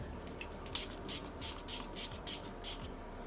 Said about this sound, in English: That means it's time for setting spray again.